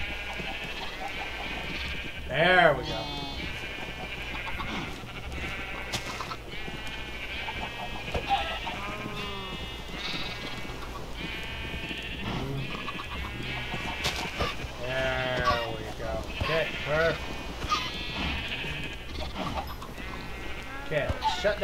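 Sheep in Minecraft bleat in short, wavering calls scattered through the clip, one louder near the start, mixed in with steady conversation from players.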